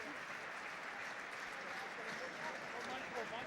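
Rugby crowd at a European club match applauding, a steady wash of distant clapping from a large stadium, with a commentator's voice over it.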